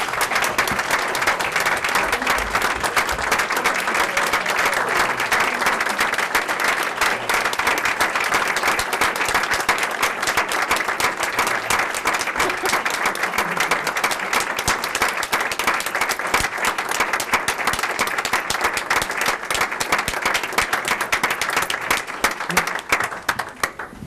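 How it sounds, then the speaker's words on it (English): Sustained applause from an audience at a school district board of education meeting, honoring students who competed in a tournament; dense, steady clapping fills the whole stretch without a break, with a few louder claps near the end. "Please, let's give these incredible kids a round of applause."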